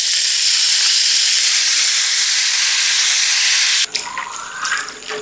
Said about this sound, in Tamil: பச்சை கொச்சிக்காவும் பூண்டும் பட்டரில் நல்லா வறுத்துட்டு இருக்கி இந்த டைமில் பால் ஊற்றிக்கிறோம்